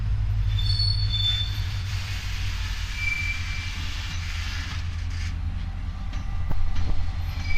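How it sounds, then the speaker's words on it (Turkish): A TCDD DE 33000-class diesel locomotive shunts slowly nearby at Niğde station, with a low engine drone, high-pitched wheel squeals and faint clanking of cars, steady and fairly close. "Bizim Tane'nin treni döndü arkadaşlar geri."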